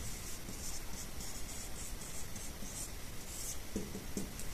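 Pen or marker scratching across paper or a board during a Class 10 trigonometry lesson, a steady soft rubbing stroke that runs throughout, faint and close, with a few brief low taps near the end and no talking.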